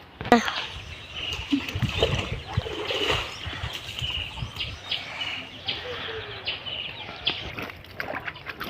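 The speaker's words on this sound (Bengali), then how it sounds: "তো একটু জলটা ঢেলে দিই" In a Bengali village, water is poured over a pile of cow dung with uneven splashing and sloshing bursts, while birds chirp in the background.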